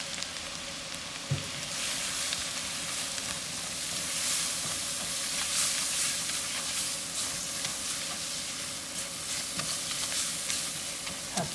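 Flour stir-fried with butter and onion in a pan gives a continuous close sizzling hiss with scattered spoon scrapes and crackles, steady throughout.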